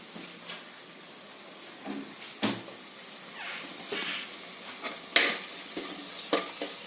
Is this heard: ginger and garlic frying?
yes